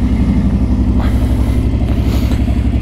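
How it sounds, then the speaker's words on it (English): A Suzuki M50 motorcycle engine runs close by at a steady, throbbing idle with a clattering mechanical pulse and no voices. "But I'll start the bike up here."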